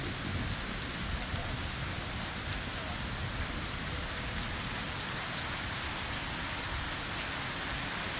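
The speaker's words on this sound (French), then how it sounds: "C'est que la tempête allait arriver et tomber vraiment à point nommé." Steady heavy rainstorm in the Metro Exodus video game, a dense continuous roar of rain on surfaces with low rumbling thunder beneath, loud and unbroken throughout.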